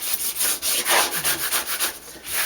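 A squeegee rubs transfer tape down onto a sign in a series of short, close, steady scraping strokes, a rhythmic rubbing with no talk.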